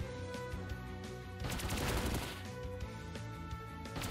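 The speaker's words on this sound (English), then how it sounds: "Let's see what Pin Missile can do." Pin Missile attack in the Pokémon Let's Go Pikachu/Eevee video game: a short, noisy rattling burst of hits in the middle, set over steady background game music.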